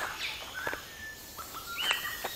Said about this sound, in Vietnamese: Đây nghe tiếng chim đảo quá.